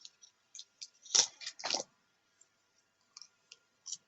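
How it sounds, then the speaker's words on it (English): Tarot cards being pulled and shuffled from a deck, giving a few soft, close clicks and papery snaps in short bursts separated by silence. "I just want to pull another card here"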